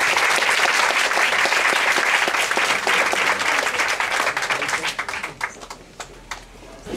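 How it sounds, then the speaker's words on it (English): A lecture audience gives a warm round of applause for speaker Richard Bangs, loud dense clapping that thins out into scattered claps and fades over the last couple of seconds. "please give a very warm round of applause to Richard Bangs"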